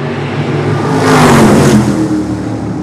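Super modified race cars on a short oval roar together as the pack accelerates at the green flag, a loud swelling engine blare peaking midway with rising pitch, no voices.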